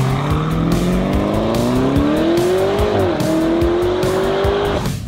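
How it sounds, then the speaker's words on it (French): A Lamborghini Urus engine roars loud and steady, its pitch climbing through the gears with a brief dip at a shift, while tires squeal throughout; the car is close and nobody speaks. "C'est avec ce Lamborghini Urus que Adem Bilel vont se faire plaisir et tester la voiture"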